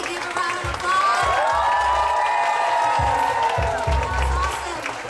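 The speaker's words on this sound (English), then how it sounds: "Everybody give a round of applause." Applause and cheering from the audience at the close of a women's poetry slam in Indonesia after the judges' scores are read, with sustained clapping, whoops and excited voices forming a loud, continuous crowd roar.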